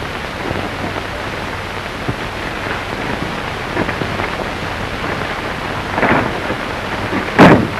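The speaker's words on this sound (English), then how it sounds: "Liable to be cloudbursts, washouts, and thunderstorms" A thunderstorm in a 1935 Western film rumbles with steady heavy rain, low thunder rolling through and a sharper crack near the end, with no voices over it.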